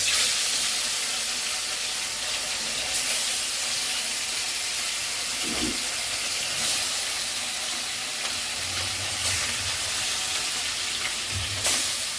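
Fish fries in hot oil in a wok, giving a loud, continuous hissing sizzle that stays steady throughout, with a few faint clinks and low thumps from the pan.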